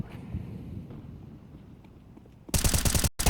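A sharp burst of rapid gunfire erupts in a competitive Valorant match, loud and close, after a stretch of quieter in-game ambience, with a brief gap before the shots resume.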